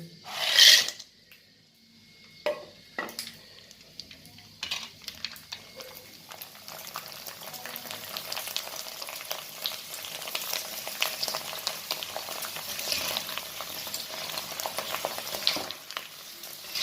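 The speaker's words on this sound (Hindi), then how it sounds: "इन पापड़ों को और सलांटियों को इस तरह हिलाते रहेंगे ताकि सब जो कोई पापड़ और सलांटी कच्ची ना रह जाए" Papad and slanty chips fry in hot oil while being stirred, a continuous close sizzle that builds and holds steady, with a few scraping knocks near the start.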